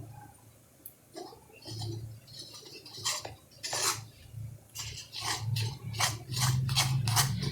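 A milk, ground coconut and cardamom mixture is stirred in a vessel, with a utensil scraping and clinking against the sides in irregular, close strokes that quicken toward the end.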